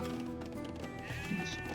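Sheep on a farm in Age of Empires II let out a short, faint bleat, a quick wavering call heard alone.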